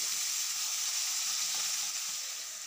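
Spice paste for a hilsa fish curry frying in a pan, a steady, close hiss of sizzling oil with faint stirring, continuous and fairly loud with no voices.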